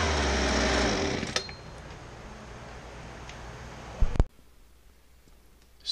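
The engine of a Husqvarna 125B leaf blower with a loose carburetor runs loud for about a second, then drops to a lower idle before a sharp burst and cutoff.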